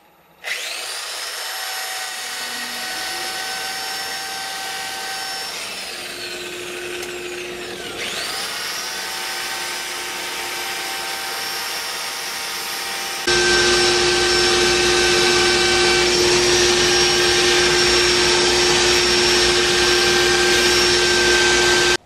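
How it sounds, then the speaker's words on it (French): Wood is sanded with a right-angle drill while making a wooden clock, a sustained high-pitched whirring grind that drops in pitch briefly mid-way, then resumes louder and steady for the remaining seconds, with no speech. "j'ai tout sablé à la perceuse coudée"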